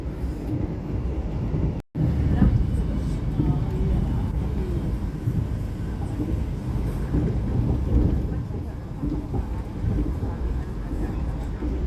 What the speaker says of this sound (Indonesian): Kereta api Argo Bromo Anggrek melintas langsung stasiun Ngrombo.